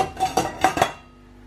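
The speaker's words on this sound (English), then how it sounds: "Now we're going to remove the lid, just like that." A metal lid is lifted off a pot of boiling fudge, giving several quick clinks and clanks of cookware in a rapid cluster before it goes quiet.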